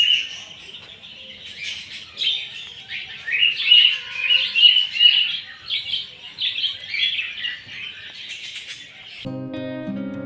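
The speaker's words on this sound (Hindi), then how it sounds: "यहाँ पर है पीले तोते" Yellow parrots at Kanan Pendari zoo give a continuous stream of shrill chirps and squawks, fairly close and loud, with no voices, ending abruptly in a short burst of different sound.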